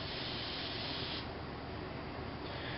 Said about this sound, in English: I'm going to spray it pretty much on everything here